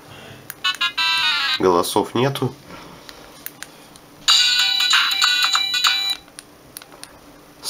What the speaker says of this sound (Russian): Стоковые несколько стоковых рингтонов тут имеется.